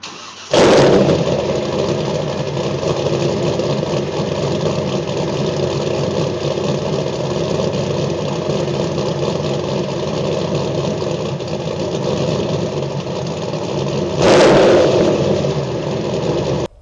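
A Firebird race car engine with a Lunati cam idles loud and close in a steady, lumpy rumble, with sharp bursts near the start and again near the end.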